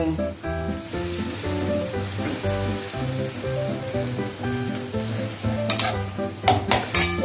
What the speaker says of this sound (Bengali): সব দিয়ে আমি মশলাটা কষাবো।